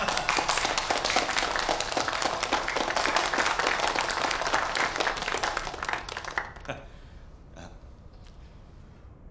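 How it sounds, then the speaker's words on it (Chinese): A crowd welcomes a new police chief with dense, vigorous clapping that continues for several seconds, then thins into a few scattered claps. "让我们用最热烈的掌声欢迎他"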